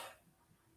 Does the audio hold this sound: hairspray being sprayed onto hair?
no